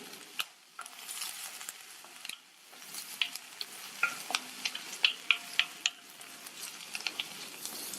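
Mustard seeds, chopped onion and a slit green chili frying in hot oil, with a light sizzle under a string of sharp pops and spatula clicks, growing busier in the second half.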